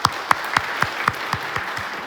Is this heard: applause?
yes